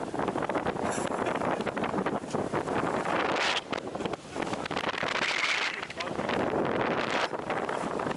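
Strong 24-knot wind gusts across a microphone aboard an old long-keeled sailing boat with the mainsail raised, roaring loud and continuous, with water rushing beneath and a voice speaking over it.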